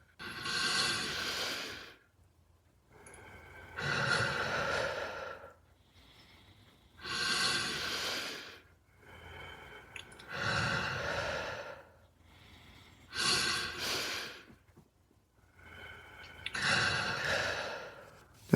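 Slow, deep breaths in a guided relaxation exercise, with six long rhythmic inhales and exhales that swell and fade in turn, close and clear with quiet pauses between them.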